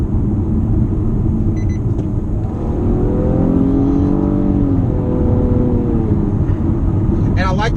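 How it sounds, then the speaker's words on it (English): A 2018 Nissan Maxima Platinum with a CVT simulating downshifts as it slows, heard as a steady cabin rumble with engine tones that sweep and step in pitch midway, ending in a brief squeak. "it actually downshifts when you want to slow down,"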